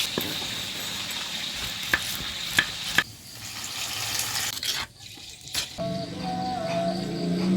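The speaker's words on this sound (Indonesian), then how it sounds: "Goreng ikan nila sambal pecak." Tilapia fish frying in a pan, a steady close sizzle and crackle running throughout with a few sharp taps and clinks, a short dip in the middle, then the sizzle resumes.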